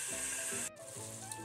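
Meat sizzles in a pot as it browns on all sides for a lentil stew. The frying is steady and close, with a brief break partway through and a faint scrape of stirring.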